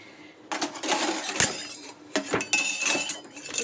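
Dry red chillies, fennel seeds and panch phoron stirred in a dry pan, two short bursts of rattling, clinking scrapes close up separated by a brief pause, no voices.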